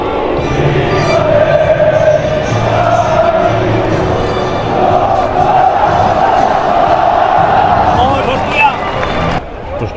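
Football crowd at Mestalla stadium in Valencia after a match, Barcelona's away section chanting and cheering as one steady, loud roar of massed voices that fills the whole stretch without a break.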